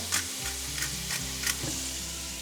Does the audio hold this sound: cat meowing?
no